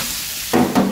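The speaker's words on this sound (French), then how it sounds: "on va décoller les sucres de la viande qui reste au fond avec les oignons" Meat and onions frying in a pan for a bolognese sauce, a quiet low sizzle that gives way to two louder bursts of stirring and scraping across the pan bottom.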